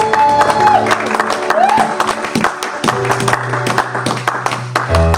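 A church congregation in a French-language service claps and cheers in praise, a dense, steady wash of applause with voices calling out over it and sustained musical tones running underneath.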